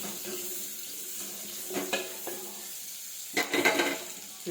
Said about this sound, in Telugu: చూడండి, ఇలా ఫ్రై అవుతుంటుంది.